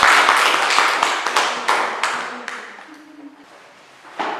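A classroom of students claps for a classmate named Nadia during a school group-guidance session: a dense burst of applause that thins out and fades over a few seconds, with a brief final patter of claps.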